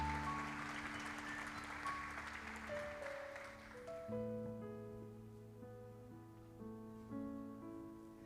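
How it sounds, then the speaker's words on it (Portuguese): A church congregation applauding at an evening service, a dense, steady roar of clapping that fades gradually while sustained organ or keyboard chords rise over it. "Vamos aplaudir ao Senhor pela vida desses bebês tão lindos."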